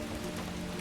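Rain pours steadily during a ghost story set at a tea stall, a thick, constant hiss of drops on a surface with a low rumble beneath, loud and alone with no voices.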